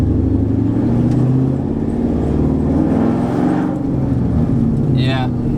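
Straight-piped, cammed Mustang exhaust heard from inside the car, a steady low droning rumble with faint lumpy pulsing under voices talking in the cabin.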